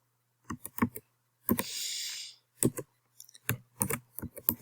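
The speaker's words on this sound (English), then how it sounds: "so you could just type in" Typing on a computer keyboard, close bursts of clicky keystrokes in short irregular groups with gaps between them and one longer whirring noise in the middle.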